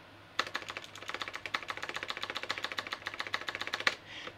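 Quick, even clicking of computer keys, close and fairly quiet, in a steady burst of about three and a half seconds with no voices over it.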